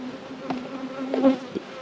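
Honey bees buzz steadily at close range while being covered in mite treatment inside a hive tub, a continuous droning hum with brief louder swells.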